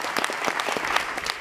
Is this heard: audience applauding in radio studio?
yes